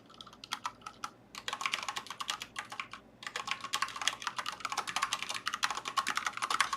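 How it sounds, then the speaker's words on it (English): Computer keyboard typing in quick, uneven bursts of clicks, close and fairly loud, with a brief pause near the middle and no talking. "my typing has become progressively messier the more I've used AI"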